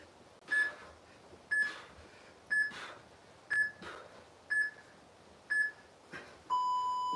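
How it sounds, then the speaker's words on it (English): A home HIIT workout timer sounds its 10-second countdown, a series of short bright electronic beeps about one second apart, ending in a longer sustained tone, clear over a quiet room. "Hear that 10-second countdown."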